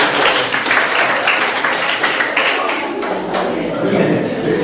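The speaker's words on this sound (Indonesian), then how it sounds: "Tepuk tangan untuk siapa?" Students clap in a classroom after a song, a short burst of mixed, uneven hand claps and taps that stays close and fairly loud, with some voices mixed in.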